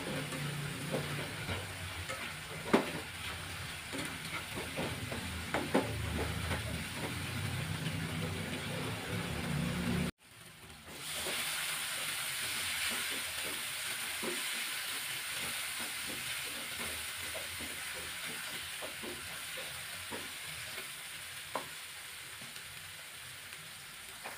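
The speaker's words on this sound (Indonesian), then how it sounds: "Aduk hingga rata dan tunggu hingga bumbunya tamat." Spices with sliced galangal and bruised lemongrass fry in a pan for spicy rica-style chicken feet, giving a steady close sizzle and hiss with scattered crackles and stirring scrapes, briefly cut off partway, then resuming with a slightly lighter sizzle.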